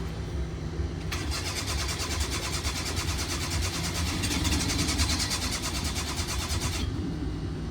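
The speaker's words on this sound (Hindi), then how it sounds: "ओए जनरेटर स्टार्ट हो गया।" A generator engine cranks with a rapid rhythmic starter whir that goes on for several seconds, catches and settles into a steady running hum.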